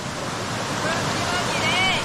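The waterfall at Amélia Rodrigues in the interior of Bahia, a loud steady broadband rush of falling water with wind buffeting the microphone, continuous throughout, with faint voices in the background.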